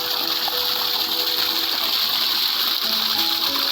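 Irrigation water pours steadily into the dug furrows of a sugarcane field, a close, continuous gushing rush that stays even throughout.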